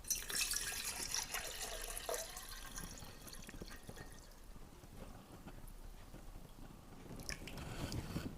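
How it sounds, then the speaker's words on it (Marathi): Water pours and splashes into a pot, a bright trickling rush that thins in the middle and swells again toward the end, close by. "मी आता ह्याच्यात मी पाणी भरणार आहे स्वच्छ पाणी घेतलं"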